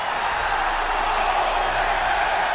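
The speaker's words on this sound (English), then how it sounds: "Capacity crowd here in DC chanting for Adam Cole, baby." Capacity crowd noise fills a wrestling video game arena in DC, a steady dense roar of fans chanting for a wrestler at a Raw event, continuous and loud throughout with no pauses.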